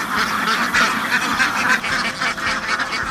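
A dense chorus of many ducks quacking continuously, overlapping calls from a large flock close by, with no pauses.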